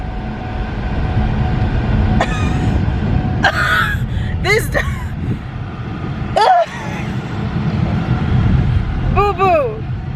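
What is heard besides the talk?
car air conditioning blasting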